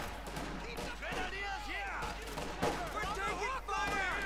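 Gunfire rings out in a 1v1 match of the strategy game Company of Heroes 2, with grenadiers and engineers fighting: scattered shots and bursts crack at mid distance under steady talking.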